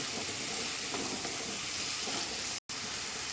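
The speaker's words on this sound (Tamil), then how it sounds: "தக்காளி போட்டு நல்லா வதக்குவோம் இப்போ இதில் வந்து கல் உப்பு போட்டுக்கிறேன்" Tomatoes and onions sauté with rock salt in a pan for garlic kuzhambu, giving a steady, close, loud hissing sizzle that runs throughout with one brief dropout near the end and no talking.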